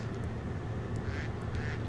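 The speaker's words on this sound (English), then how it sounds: "Ducks! Quack," Ducks quack in the modded Minecraft pack Life in the Woods Renaissance. A few faint quacks sit under a steady, dense background hiss in a brief stretch of gameplay.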